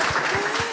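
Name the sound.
audience applause for champion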